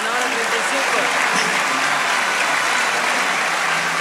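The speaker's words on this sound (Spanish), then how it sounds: "Aplausos para todos." Theater audience applause at a live stand-up comedy show in Lota, a steady, dense wash of clapping filling the hall with no break, loud and continuous.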